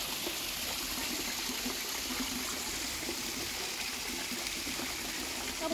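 Water trickles at Shek Fan Tam falls, the Kau Lung Pool in Fanling, Hong Kong, as a low, weak flow. It makes a steady, soft rushing wash that runs unbroken through the whole clip with no voices.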